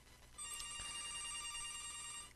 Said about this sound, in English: Ignore the phone ringing.